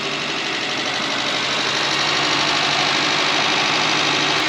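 An old Volkswagen electric race car, left sitting for over 25 years, runs its motor with a continuous dense buzzing hum and faint rattling vibration, steady and close throughout with no talking.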